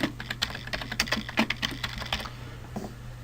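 Computer keyboard typing while entering text with the 3D text tool in SketchUp, a run of quick, uneven keystroke clicks close to the microphone over a low steady hum, easing off near the end.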